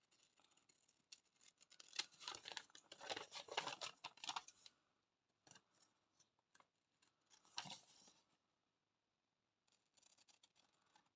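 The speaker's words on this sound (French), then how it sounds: "on coupe." Scissors snip through a folded paper goodie pouch in quiet, close bursts: a dense run of crisp cuts, a pause, then a few more snips and rustles.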